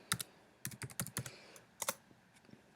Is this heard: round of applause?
no